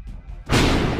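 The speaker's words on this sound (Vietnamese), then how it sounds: "Vậy chính con quái vật này đã làm nổ ở đây." A loud, sudden explosion set off by a monster in Minecraft bursts in after a quieter moment and roars on densely to the end, near and heavy.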